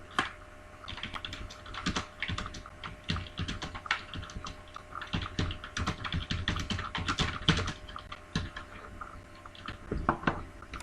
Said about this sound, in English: For this we will simply type in whatever needs to be said.